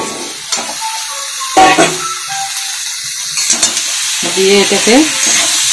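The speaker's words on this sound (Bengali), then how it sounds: "মশলা কষানো হয়ে গেছে, এখন সিম ভাজাগুলো দিয়ে দিব" Fried flat beans are stir-fried in spiced masala in a pan, with crackling sizzle and clattering stirring strokes. A voice speaks briefly over the cooking.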